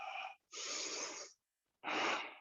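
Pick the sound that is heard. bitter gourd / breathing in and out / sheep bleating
breathing in and out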